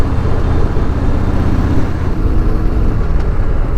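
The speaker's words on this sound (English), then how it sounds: "there's some traffic up ahead" Heavy road traffic with trucks, heard from a motorcycle on a long highway ride, as a loud continuous engine rumble and road roar, close and steady throughout.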